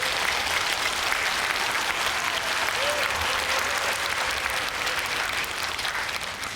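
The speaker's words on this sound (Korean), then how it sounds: "박수 한 번만 좀 부탁드리겠습니다" Audience applause at a humanities lecture in Jangheung, South Korea, with a hall full of people clapping in a sustained, even roar that fades slightly near the end.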